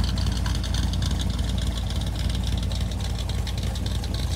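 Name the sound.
1957 Chevrolet Bel Air engine on a test drive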